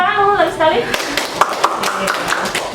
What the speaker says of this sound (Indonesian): Tepuk tangan dulu lagi sekali.